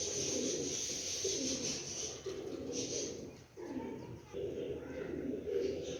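Male pigeons of Rawalpindi show breeds, Sialkoti and Frozpuri types, coo in repeated low, throaty pulses that roll steadily throughout, close by, with other birds chirping faintly behind.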